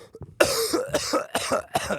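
A person coughs several times in quick succession, loud and close, with short breaths between the bursts.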